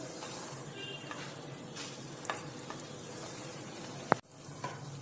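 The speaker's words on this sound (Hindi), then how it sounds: "मैं ये सेलो फ्राई कर रही हूँ, डीप फ्राई नहीं कर रही हूँ" Malai kofta shallow frying in hot oil in a pan: a steady, moderate sizzle runs throughout, with a few soft stirring clicks and one sharp knock near the end.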